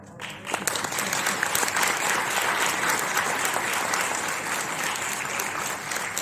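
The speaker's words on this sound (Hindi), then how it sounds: "तालियां ऐसी बजें कि सभा में जान आ जाए" Sustained audience applause fills a lecture hall at a memorial event at a university, dense and steady from start to finish after a brief quieter opening.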